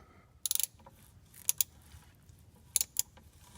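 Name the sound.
ratchet removing 15 mm starter bolts on Fiero GT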